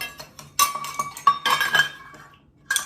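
A metal baking pan is handled for apple bread in a home kitchen, with close clinks, taps and metallic clatter in irregular bursts and short quiet gaps.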